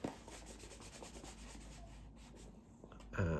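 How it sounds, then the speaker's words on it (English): Embossing tool rubbed firmly over stamped card stock for paper crafting, a soft, continuous close scraping and rubbing texture with steady strokes, then a brief louder handling sound at the end. "I'm just going to rub over these with my embossing tool"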